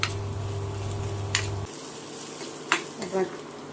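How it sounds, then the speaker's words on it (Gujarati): Onion frying in a pan for vagharelo rotlo, a soft steady sizzle with a low hum under it, broken by a few sharp clinks and scrapes of a spoon stirring. "થોડીક વાર કાંદું ચડાવી દઈએ"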